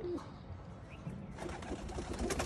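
Soft, low pigeon coos come in short bursts amid faint rustling and background noise, with no clear talking.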